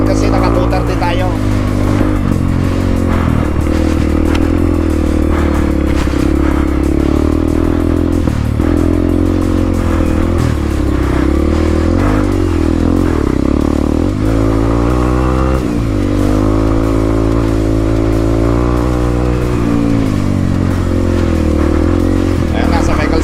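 An enduro motorcycle engine drones loudly and continuously up close during a race, with revving shifts and rattling as it rides along.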